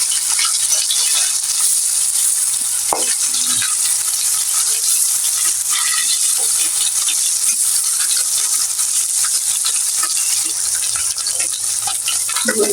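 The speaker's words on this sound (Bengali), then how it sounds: "আমার মাছটা ভাজা হয়ে গেছে" Hilsa fish frying in a pan of oil, a dense, steady sizzle with crackling bursts that runs loud and close throughout, with no voices.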